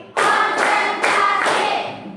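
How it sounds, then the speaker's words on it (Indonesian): Four sharp hand claps in a classroom, evenly spaced about half a second apart, each ringing briefly before the next; no one speaks. "Tepuk empat kali."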